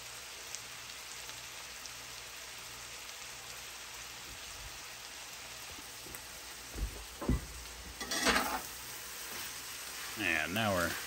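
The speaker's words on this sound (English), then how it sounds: "You're just letting it cook down, letting the fat render out of that beef." Ground beef with mushrooms simmering and rendering its fat in a pot for grilled zucchini chili, a steady soft sizzle and crackle running throughout, with a few louder clatters and a brief voice near the end.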